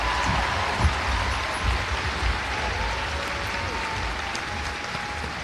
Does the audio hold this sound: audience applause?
yes